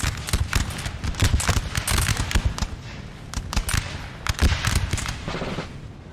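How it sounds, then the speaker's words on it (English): Rapid, ragged musket volleys crackle in a Napoleonic Total War 3 battle, dense overlapping shots with near and distant pops running continuously in a loud, busy field of fire. "These guys are shooting so fast."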